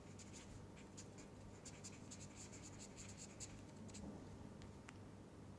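Soft, steady scratching of writing during a tutorial, a series of quick faint strokes over constant background hiss, with no speech.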